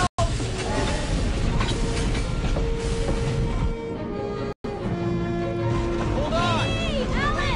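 Interior of a moving train carriage, a loud continuous rumble with rattling and occasional squealing tones, with people talking over it.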